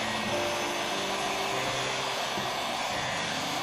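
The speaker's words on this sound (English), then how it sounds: "Just keep that heat gun moving steady." A heat gun runs as a steady, close blowing hiss, warming polish on boots, with no change in pitch and no talking over it.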